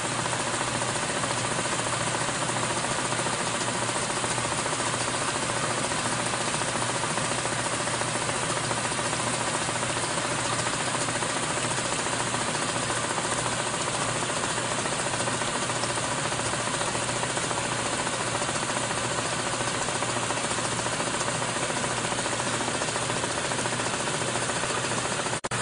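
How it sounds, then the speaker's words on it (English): Motor-driven vibrating sand screener for BioSand water filters, with an out-of-balance shaft shaking it, giving a constant loud mechanical drone with a fast rattling vibration that holds steady throughout. "the heart of this machine, the part that causes the vibration, we call it the flinger. And that is an out-of-balance shaft. It's driven by that motor."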